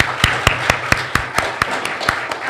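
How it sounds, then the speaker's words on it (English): Slow, evenly spaced claps from a small audience at an Indigenous poetry reading, close and distinct, roughly ten sharp hits without any talking. "let's give them another warm applause"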